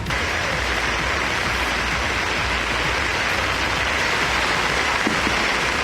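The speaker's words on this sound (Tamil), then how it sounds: "2வது நாளாக கனமழை வெளுத்து வாங்கியது" Heavy rain pouring steadily during a downpour in a Tamil Nadu town area, a dense, continuous hiss of falling water with no voices, loud and close throughout.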